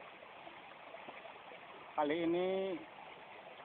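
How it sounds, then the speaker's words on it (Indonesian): A river in the Banten region flows with a steady, moderate rushing hiss of water that runs continuously beneath a voice speaking briefly. "saya sudah berada di sungai, di sebuah sungai daerah Banten"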